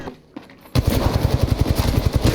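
Automatic gunfire in the battle royale shooter Apex Legends erupts after a brief quiet moment as a rapid, steady burst of shots, close and loud, with no speech.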